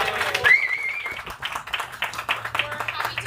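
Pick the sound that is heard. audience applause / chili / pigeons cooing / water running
audience applause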